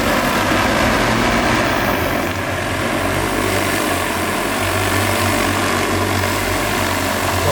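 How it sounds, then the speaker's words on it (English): A large delivery drone flies overhead on a mountain top, giving a steady, loud propeller drone with a low engine-like hum that holds evenly throughout, with no speech over it. "someone's delivering shit with a big drone"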